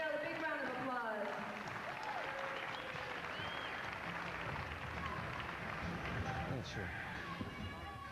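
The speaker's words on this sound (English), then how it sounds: "Let's also give Natalie from Israel a big round of applause" Audience applause fills a boxing match venue as a fighter from Israel is introduced for the first round, with steady crowd clapping throughout and voices talking over it.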